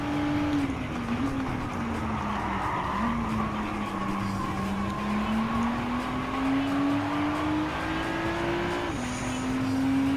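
Rotary-engined race car lapping in Gran Turismo 7 during a Clubman Cup Plus race, a loud buzzing high-revving engine note that rises and dips through shifts and corners, with tire squeal mixed in.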